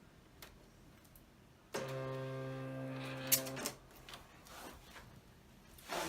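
A Cricut or Silhouette cutting machine pulls in a cutting mat, giving a steady motor whir for about two seconds, then a few clicks and soft mechanical knocks, quiet and close.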